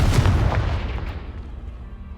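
A single booming explosion from the Confringo blasting spell in Hogwarts Legacy, cast at a pile of debris: a heavy, loud blast right at the start, then a rumbling decay that fades over the next two seconds.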